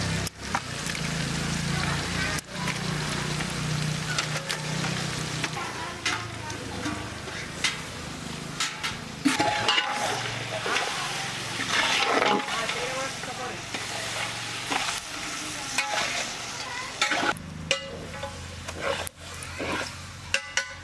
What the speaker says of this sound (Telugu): మనం ఇప్పుడు మటన్ కూడా వెంటనే వేసుకోవాలి ఒకసారి కలిపి.